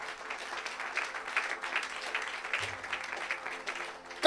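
A church congregation at a Saturday service applauds steadily, the clapping moderately distant and continuous throughout, with a faint low hum entering partway.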